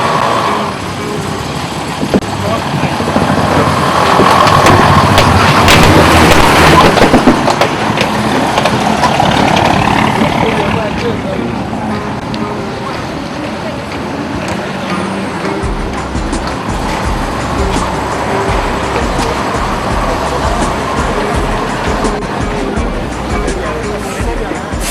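A bus driving on a flat tyre fitted with tyre bands, during a demonstration in Mombasa, rumbles with a loud, continuous engine drone and road noise that rises then settles, while people talk and a crowd murmurs nearby.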